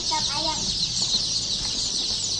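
Chickens of the KUB breed cluck in a farm setting, a few short clucks near the start over steady background noise.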